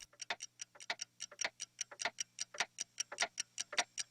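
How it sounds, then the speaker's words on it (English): In the opening of Back to the Future, many clocks tick at once, a dense overlapping patter of crisp ticks in an uneven rhythm, close and clear over a faint low hum. "we hear the sound of clocks ticking."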